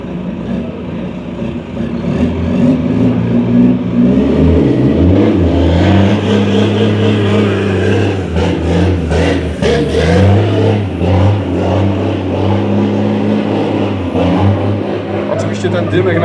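A truck drifting at a trade fair in Kielce, its engine revving hard and loud and close for a sustained stretch, with pitch swings as the throttle rises and falls, and crowd noise and voices mixed underneath.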